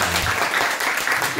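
Brief burst of dense, loud applause from a church congregation during a worship service, continuous clapping filling the whole moment with a faint voice underneath.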